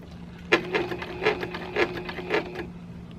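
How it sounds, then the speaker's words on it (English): Sewing machine stitching close to the edge of a scrappy quilt binding: a short burst of rapid, rhythmic mechanical clatter with a faint steady hum, starting after a brief pause and stopping abruptly, no talking. "I'm stitching on the white right in the edge as close as possible to that binding"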